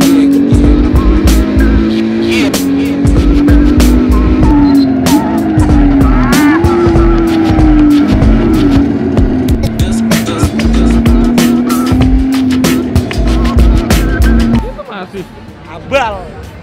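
A car in a racing simulator game revs hard with a steady, loud engine drone and sharp tire squeals and skids, while people talk over it, before the engine noise drops away near the end.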